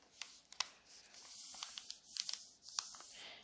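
Origami paper being folded over while a paper cup is made, giving quiet, close crinkles and a few sharp crisp creasing snaps spread through a few seconds, with no talk.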